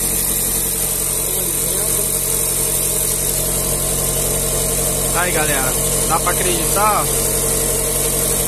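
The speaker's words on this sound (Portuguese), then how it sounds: "Funcionei o carro com álcool no reservatório da partida frio." A car engine idling steadily after a start on ethanol poured into the cold-start reservoir, a constant close hum with someone talking over it.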